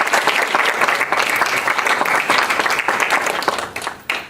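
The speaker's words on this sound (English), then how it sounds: "Please join me in a round of applause" Sustained audience applause at a community college board of trustees meeting, dense steady clapping filling the room throughout without speech.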